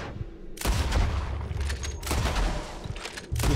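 Gunfire in the Western video game Red Dead Redemption 2: a loud burst of several shots with a rumbling tail, a short pause, then another volley and a final blast near the end, close and booming.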